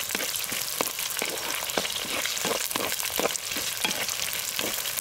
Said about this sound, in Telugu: ఈ ఉల్లిగడ్డలు బ్రౌన్ కలర్ వచ్చే వరకు అంటే 2 3 నిమిషాలు వేగిన తర్వాత పచ్చిమిరపకాయలు వేసుకుందాం